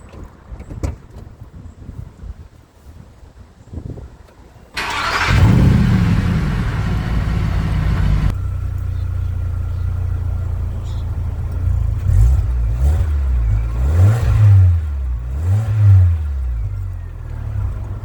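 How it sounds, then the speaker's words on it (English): A 2007 VW Touran with a newly replaced exhaust muffler box starts up and idles with a steady low rumble, followed by a few quick revs; quiet background noises come before the engine catches. "So now the muffler pan is on. So we're gonna start it and hear how it sounds."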